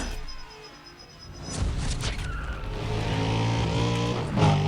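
Racing cars in the Need for Speed: Undercover video game, engines revving and rising in pitch as a car accelerates, with a brief tire screech, loud and close.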